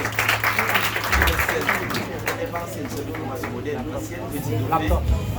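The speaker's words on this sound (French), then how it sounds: "Je vous demande de l'applaudir, s'il vous plaît." Audience at a graduation ceremony applauding a former student of a training centre, steady crowd clapping with a hum of chatter and voices underneath.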